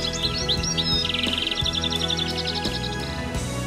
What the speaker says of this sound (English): I'm especially fond of these noisy goldfinch who demolish the sunflower seeds